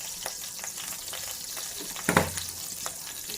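Mustard seeds and cumin sizzle in a spoonful of hot oil for a tempering, a steady crackling fry with a sudden louder pop and spatter partway through.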